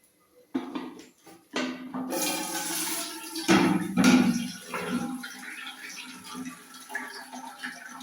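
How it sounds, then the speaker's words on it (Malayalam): Water draining out of a pot of cooked rice with the rubber tube removed, a close, steady gush and splashing that swells midway, then settles into a softer trickle alone. "ഇനി ഇങ്ങനെ കിടന്ന് ഈ വെള്ളം മുഴുവൻ വാർന്നു പൊക്കോളും"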